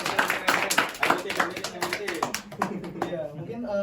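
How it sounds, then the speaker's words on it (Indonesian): A small studio audience claps in quick, uneven bursts of hand slaps, while people keep chatting and talking over the applause. "Tepuk tangan dulu."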